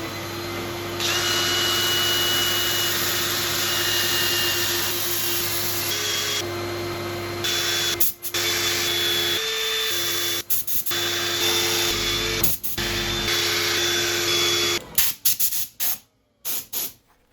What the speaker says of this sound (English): I'm going to set up for sanding.